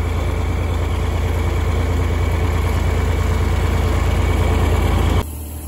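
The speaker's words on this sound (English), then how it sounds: "This tractor's used to riding around with a hay rake behind it." A farm tractor's diesel engine idles with a loud, steady low rumble and a regular chugging pulse, close by and unbroken, then drops suddenly quieter near the end.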